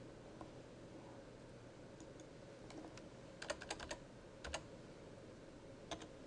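A computer keyboard typing a short entry into a file name: quiet, scattered keystrokes that bunch into a quick burst of clicks midway, with a few lone taps before and after in a still room.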